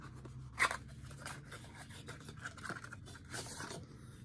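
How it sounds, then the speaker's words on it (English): Scissors snip and scrape through plastic product packaging for a vitamin C skincare item, a sharp cut near the start followed by quieter scraping and rubbing, close and fairly faint with no voices. "Scissors to the rescue."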